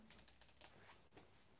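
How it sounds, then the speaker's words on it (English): Typing on a laptop keyboard: a few quick, light key clicks in an irregular burst, close but quiet, then a softer tap near the end, with no voices. "Are you just typing rubbish on the screen?"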